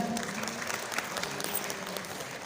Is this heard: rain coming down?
no